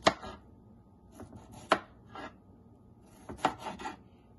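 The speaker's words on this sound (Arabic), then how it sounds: "هنا غادي ناخد هاد الفراولات او الفريزات اللي غادي نديكوري بيهم، غادي نقطعهم هكذا على الطريقة" A knife slices through fresh strawberries on a cutting board for dessert decoration, in a few short clusters of crisp, close cuts separated by quiet pauses.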